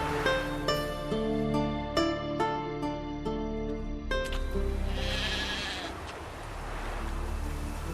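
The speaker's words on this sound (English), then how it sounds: "How do you call a sheep? Here, sheepy sheepy? Hey sheep, come here." A sheep in The Witcher 3: Wild Hunt bleats in several separate calls during the first few seconds, followed by quieter ambient game sound with no talking.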